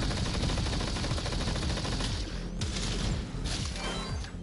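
Rapid gunfire from a compact, powerful blaster in the VR shooter Blasters of the Universe on PSVR: a dense, fast stream of loud shots with crashing impacts, nearly continuous with a couple of brief gaps.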